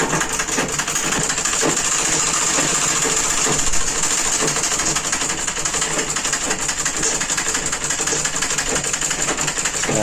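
Sewing machine set to stitch setting 3 for a fine stitch runs steadily throughout, a continuous whirring mechanical hum with a fast repetitive needle patter, close and loud, with no talk over it.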